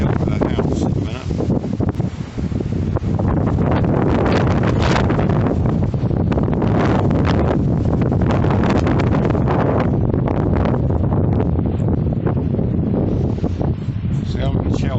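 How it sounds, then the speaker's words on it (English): Wind gusts rush past outside a house in Reykjavik, Iceland, a constant loud roar and buffeting against the microphone for the whole stretch, with someone talking faintly beneath. "Wind's starting to pick up a little. Get the little gusts."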